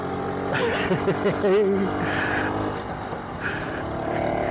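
A BSA D7 Bantam two-stroke motorcycle rides around the block, its engine droning and rising in pitch under wind noise, while a voice talks over it in the early part.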